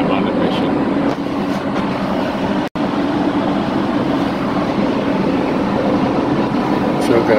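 The inside of a train compartment on a ride in Belgium, with a steady low rumbling hum of the moving carriage, a brief dropout partway, and faint background noise throughout.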